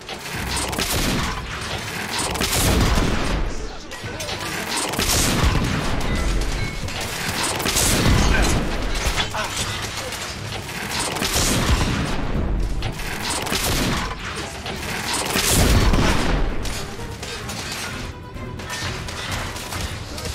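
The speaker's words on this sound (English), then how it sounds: "We are witnessing heavy artillery fire at the moment." Heavy artillery fire in the video game The Order 1886, a steady barrage of loud booms and crashes rolling one after another, some close and sharp, others distant rumbles, with no talk over it.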